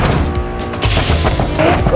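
Car crash in a video game after a vehicle jumps off a cliff, a loud, dense burst of engine roar and impact noise with short thuds and scraping, filling the whole moment.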